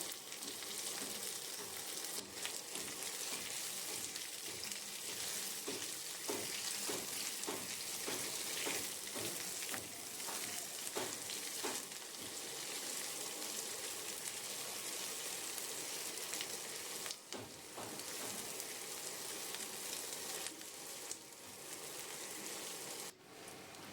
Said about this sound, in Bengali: পেঁয়াজটা ভালো করে ভাজা করে নিতে হবে